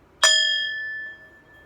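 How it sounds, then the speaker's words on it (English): A Tibetan sound healing bowl is struck once, giving a bright metallic strike that settles into a clear, sustained ringing tone with several steady overtones, fading slowly over about a second with no voices. "so this is a Tibetan sound healing bowl, and it sounds like this."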